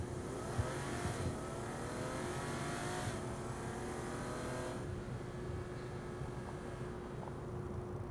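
A car in Saints Row The Third Remastered on PS5 accelerates hard, its engine roaring loudly and continuously with rising revs close by, with no talk over it.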